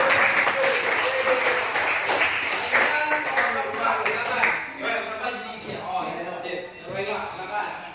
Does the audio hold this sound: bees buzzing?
no